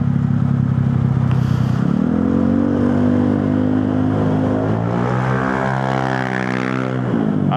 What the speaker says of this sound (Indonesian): Apa yang diharapkan dari knalpot berisik kayak gitu?